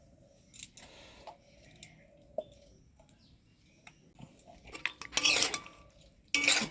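A metal spoon stirs ghee through a cooking pot, giving a few light clicks and then two short bursts of scraping clatter near the end, with no talking.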